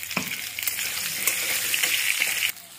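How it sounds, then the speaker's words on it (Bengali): Potato pieces frying in hot oil in a pan, a loud steady sizzle with a few stirring scrapes, stopping abruptly near the end. "এই আলুগুলো ভাজতে দিয়ে দিয়েছে"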